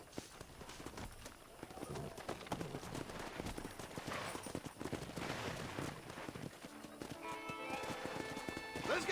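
Wild horses galloping and whinnying in the Western video game Red Dead Redemption, a herd's drumming hoofbeats at moderate distance with occasional neighs, over a low music bed.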